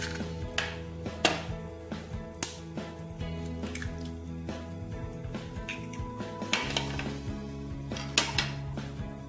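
Four eggs are mixed into doughnut batter in a bowl, giving a steady run of close wet squelches and light clinks of utensil against the bowl, with a faint hum underneath.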